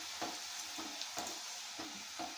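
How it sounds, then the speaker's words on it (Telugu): Namakpara frying in hot oil is stirred with a utensil, giving a steady sizzle broken by soft rhythmic scraping strokes about every half second, close and alone without talk. "ఆయిల్ అయితే హీట్ అయ్యింది. ఇలా మధ్యలో కలుపుకోవాలండి."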